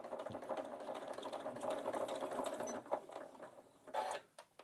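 A domestic sewing machine stitches fabric scraps in a steady, close mechanical whir that briefly pauses as the work is pivoted, then resumes in short bursts.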